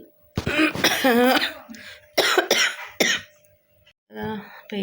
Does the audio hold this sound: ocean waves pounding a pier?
no